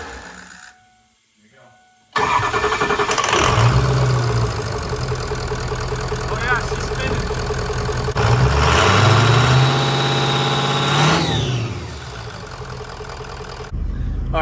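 A 2003 Ford 6.0 Powerstroke diesel engine runs with its intake removed, a loud steady drone that swells in two rising spool-up surges, with a brief quiet gap near the start and an abrupt cutoff at the end.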